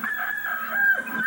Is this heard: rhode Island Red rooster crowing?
yes